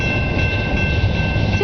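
Train cars roll steadily past in a continuous broad rumble with faint rail clatter, close and even throughout, no voices.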